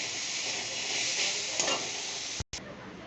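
Dheki shak (fiddlehead fern greens) frying in a pan, with a steady, close sizzle and hiss that stirring roughens slightly, then a brief dropout near the end before the sizzle resumes.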